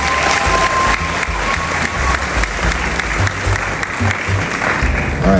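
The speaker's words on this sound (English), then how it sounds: "So give up an applause again, please." A large crowd at a high school graduation ceremony applauds steadily for the whole stretch, a loud, dense wash of clapping with some cheering mixed in.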